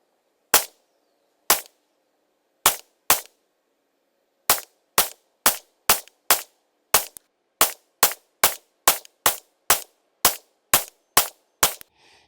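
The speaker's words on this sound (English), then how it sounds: "Cold bore shots, include them in your cone of fire" Rifle gunshots from carbines being zeroed with .223 68-grain and 5.56 75-grain ammunition, including cold bore shots: about twenty sharp, loud reports, spaced slowly at first, then in a quicker steady string, with no talk.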